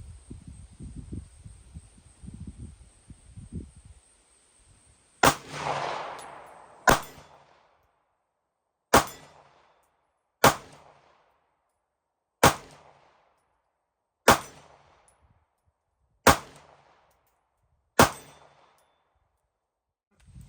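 A Smith & Wesson M&P9 Shield EZ pistol fires Federal 115 grain 9mm rounds, eight sharp cracks spaced about two seconds apart, each with a short ringing decay, after some quiet handling noise.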